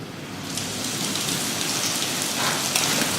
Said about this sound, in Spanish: ¿cómo llueve?